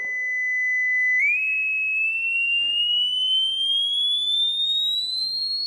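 A pure, piercing 5000 Hz sine test tone holds steady briefly, then glides smoothly and steadily upward in pitch, loud and alone.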